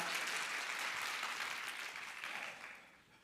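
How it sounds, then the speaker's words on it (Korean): A gathering of young church members applauds to welcome a pastor, a warm, steady wash of clapping heard from within the crowd that gradually fades out over about three seconds. "뜨거운 박수로 함께 맞이해 주세요."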